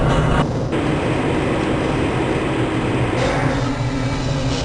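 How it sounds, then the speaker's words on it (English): Black Mesa transit train in the game Half-Life: Blue Shift, a steady loud rumbling roll with rattling and hissing noise throughout, briefly dipping before resuming its constant drone. "This train is inbound from the Area 8 topside dormitories to the Central Transit Hub in Area 9."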